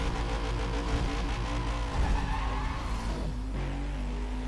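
Racing-game cars, a Jeep Grand Cherokee SRT against a Mazda RX-8 in NFS World, roar at steady loud volume with engine revving, shifting pitch and tire skids throughout, no talk.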